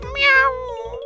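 A person imitates a cat with a single clear, drawn-out meow that rises and then falls, close and fairly loud, lasting about a second.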